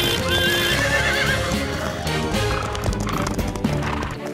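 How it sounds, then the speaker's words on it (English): Cartoon racehorses gallop past with a busy clatter of hooves and a loud, high whinnying neigh, set against a dense background mix. "Bob, how am I meant to keep up with racehorses?"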